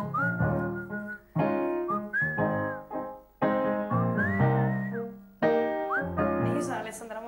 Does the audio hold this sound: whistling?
yes